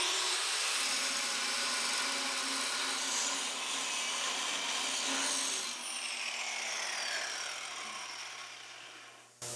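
Grinder working down along the seam of a twist bar for a basket twist foot rail, a continuous harsh abrasive whine that is steady and close, changing pitch slightly partway through before cutting off.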